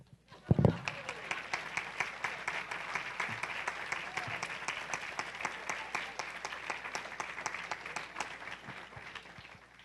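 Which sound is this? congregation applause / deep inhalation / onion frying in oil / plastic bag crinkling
congregation applause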